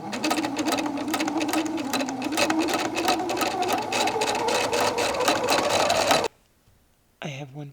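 A sewing machine runs steadily for about six seconds while stitching a dress hem, a fast loud needle clatter that stops abruptly and is followed by a brief quiet pause and a short clunk.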